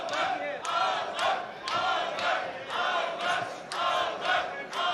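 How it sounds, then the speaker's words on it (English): A boxing crowd at a live pro bout roars and chants in rhythmic surges for fighter Batyrgaziev, the loud, dense cheering swelling in repeated waves. "The crowd trying to get behind him as well."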